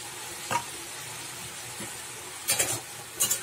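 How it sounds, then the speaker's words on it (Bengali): Prawns and bottle gourd fry in a pan with a soft, constant sizzle while a utensil stirs them, giving a few sharp scraping clinks near the start and in two quick bursts near the end. "আবারও নেড়ে চেড়ে নিচ্ছি ভালো করে।"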